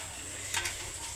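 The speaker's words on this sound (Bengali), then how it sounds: "রসুন কুচি দিয়ে দিছি," Chopped garlic hitting hot oil while tempering lentil dal, a brief bright sizzle that flares in the middle of the clip over a steady low kitchen background, no one talking.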